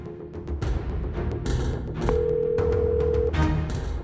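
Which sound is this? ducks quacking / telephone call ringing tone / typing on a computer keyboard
telephone call ringing tone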